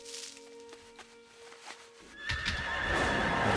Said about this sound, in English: There's a wild horse over there, that's cool.